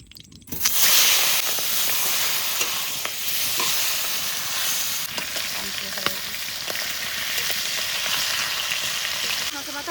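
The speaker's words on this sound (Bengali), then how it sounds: "এবার ইলিশ মাছের মাথাগুলো ভেজে নেব।" Hilsa fish heads fry in hot oil with a loud, continuous sizzle and hiss that starts abruptly and holds steady throughout, close up, with faint scattered clinks.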